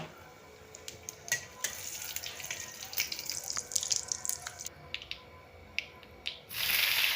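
Five-spice seeds, a dried chilli and a bay leaf tempering in hot oil for a cauliflower curry. Scattered sharp crackles and pops sound close, and a brighter hiss rises at the very end.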